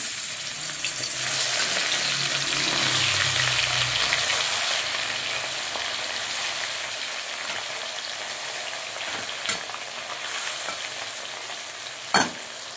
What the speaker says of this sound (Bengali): দেখো আমার মাছগুলো দেবো, ভাজা হচ্ছে আস্তে আস্তে